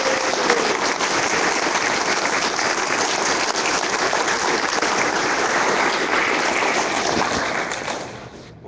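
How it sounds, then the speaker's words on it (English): A hobby gathering's audience gives a long, dense round of applause to the founders Vern and Gleda Estes, a loud steady wash of clapping that fades out at the very end. "we owe them a thank you and a real hand of applause"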